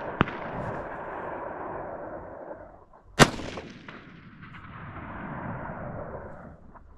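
A single sharp, loud shot from a Savage AXIS .308 bolt-action rifle fired outdoors at a distant target, preceded by a brief click and followed by a long rolling echo over steady background noise.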